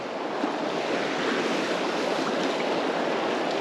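Water rushing over a shallow gravel riffle on the South Tyne river near Alston, a steady, close, broadband wash with no break and no voices.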